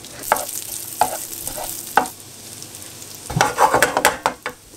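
Chorizo sizzles gently in butter in a frying pan over modest heat, a steady close crackle broken by several sharp scrapes and stirs of a utensil against the pan, with no talking.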